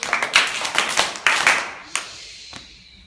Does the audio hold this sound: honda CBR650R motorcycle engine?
no